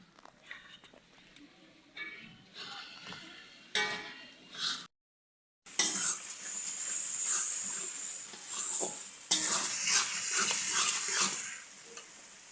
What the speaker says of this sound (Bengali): আর এখানে মশলা কষাচ্ছি।